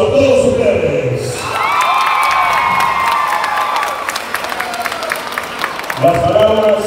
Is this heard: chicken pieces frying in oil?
no